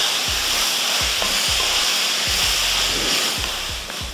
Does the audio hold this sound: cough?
no